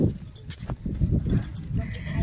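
Goat bleating outdoors during a walk in the jungle, a few short nasal bleats in quick succession over rustling background noise, fairly close.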